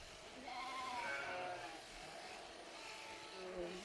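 Sheep bleat on a farm at shearing time, several wavering calls overlapping at moderate distance against a steady background hum of the barn.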